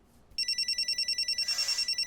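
A mobile phone starts ringing after a brief quiet moment, sounding a fast, evenly pulsed electronic ring that repeats steadily and grows slightly louder toward the end.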